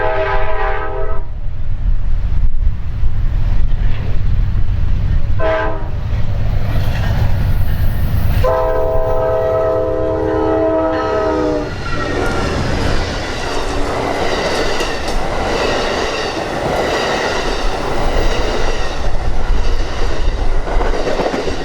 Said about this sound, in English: we stopped at Bernal to greet Amtrak 3, the westbound Southwest chief